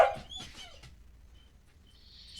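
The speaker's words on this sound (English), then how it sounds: "my dogs are about to fight, actually." Three dogs at home give a short burst of yips and whimpering whines, close and fairly loud at first, then fading into quiet with a faint high squeal near the end.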